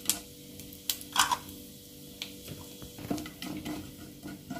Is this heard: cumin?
yes